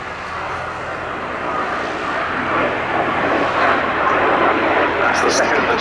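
BAC Strikemaster Mk 80A jet, a low-hour airframe flying in a pair at Duxford Summer Airshow, gives a broad steady roar overhead while a commentator talks over it.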